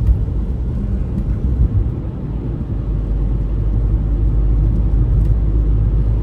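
Small Fiat car cruising along a road, heard from inside as a loud, steady low rumble of engine and tyre noise with no talk.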